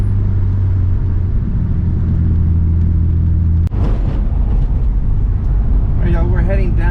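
A Nissan Skyline R34 GT-R driving along, its engine a steady low rumble that drops briefly midway, then carries on beneath someone talking.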